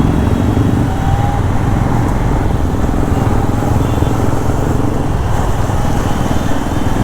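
A yellow Suzuki V-Strom 250 SX motorcycle goes by with a steady, loud engine drone that holds throughout, over constant low road rumble and no speech.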